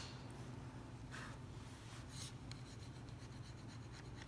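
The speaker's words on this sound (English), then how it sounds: "clean off all the burrs." Burrs are cleaned from a freshly routed rosette inlay channel in wood, producing faint, close scraping and rubbing strokes in an irregular rhythm over a steady low background.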